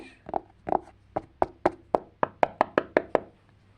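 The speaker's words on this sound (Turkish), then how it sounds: "kapı çaldık." Twelve sharp knocks on a door come in two quick bursts and then a steady, slightly accelerating run, close and clear against a quiet room.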